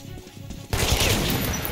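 Gunfire in the video game Metro Last Light, a sudden loud burst of dense shots that erupts partway through and continues to the end.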